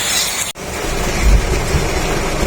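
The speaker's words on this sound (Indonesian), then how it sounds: "kondisi lagi hujan deras di rest area" Heavy rain pours at a roadside rest area as a loud, dense, steady hiss with a deep rumble underneath and a brief dip early on.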